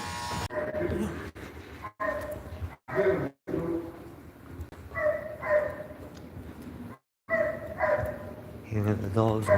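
A dog lets out short, sharp barks at intervals, mixed with people talking and a buzzing, shaver-like voice.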